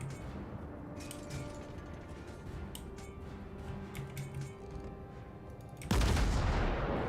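Warship guns fire in World of Warships, with a series of sharp reports and rumbling impacts over a low engine drone, ending in a louder, sustained blast near the end.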